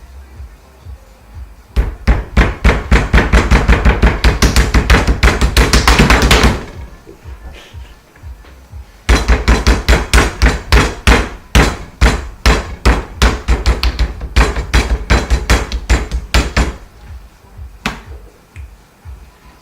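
Raw chicken breast pounded flat on a kitchen counter, a fast run of sharp, loud slaps that stops after a few seconds, then resumes in a second steady burst before fading out.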